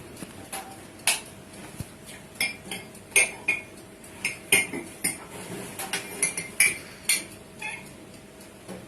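A spoon clinks repeatedly against a dish while stirring sugar with a few spoonfuls of water, a steady rhythm, close and crisp, with no talking.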